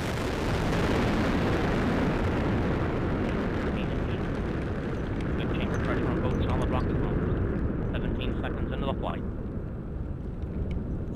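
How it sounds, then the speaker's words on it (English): Delta IV rocket from United Launch Alliance lifting off on the NROL-45 mission, a continuous loud broadband roar and rumble sustained throughout, with faint crackle and a voice-like announcement layered in the background. "liftoff of the United Launch Alliance Delta IV rocket carrying the NROL-45 mission"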